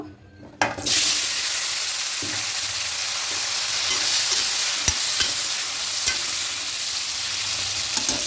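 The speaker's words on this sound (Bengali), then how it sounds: "আলুগুলো হালকা লাল করে ভেজে ভাজা হয়ে গেছে" A sudden loud burst of sizzling as potatoes hit hot oil, settling into a steady, bright frying hiss with a few faint stirring taps.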